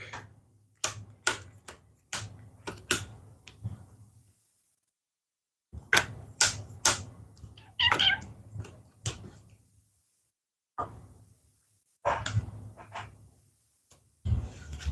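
Dune board game cards being shuffled on a table, a series of quick crisp riffling bursts and taps in several clusters with short pauses between, close and fairly quiet.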